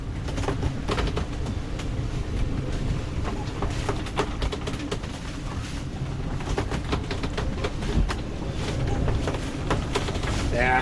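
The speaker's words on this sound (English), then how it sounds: "We got a squall going over right now." Strong squall wind roars over a sailboat at sea, gusting around 35 to 40 knots with the mainsail triple-reefed, a steady loud rush of wind and water with buffeting on the microphone, continuous throughout.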